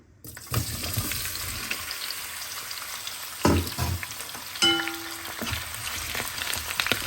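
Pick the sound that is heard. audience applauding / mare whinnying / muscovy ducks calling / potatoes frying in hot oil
potatoes frying in hot oil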